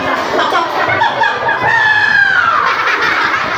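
A voice imitates a clucking, crowing chicken, loud and close, with rising and falling drawn-out calls in a sustained run.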